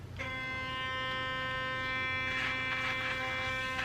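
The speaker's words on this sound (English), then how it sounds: "when you brush with this toothbrush, it's just very different because of the brush head size" A steady electric sonic toothbrush drones with a constant tonal buzz throughout, loud and close, with faint scraping texture from the brush head near the end.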